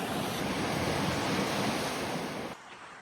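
Steady roar of ocean waves washing onto Pensacola Beach near Fort Pickens, loud and continuous with broad hissing surf and some wind, easing off near the end.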